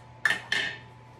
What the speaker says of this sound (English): I'm going to stir it down.